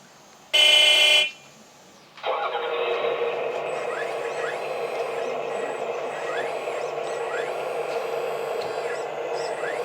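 A 1/10 scale D11 RC bulldozer's sound module gives a short horn-like blast, then after a pause starts a synthetic diesel engine sound that runs steadily with rising and falling whines as the model drives.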